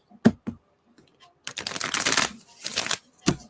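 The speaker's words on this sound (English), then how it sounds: "One more shuffle." Oracle cards being shuffled by hand at close range, a few soft taps and then a longer riffling flutter, followed by a final sharp snap, with no talking.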